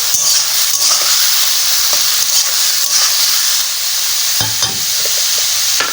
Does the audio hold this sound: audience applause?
no